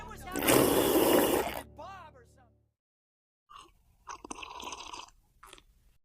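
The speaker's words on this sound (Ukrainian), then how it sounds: "Раптом хтось гучно сьорбнув чай." Loud, close slurping of tea comes in a strong sucking burst and then trails off. After a short silence come further wet sipping and mouth noises.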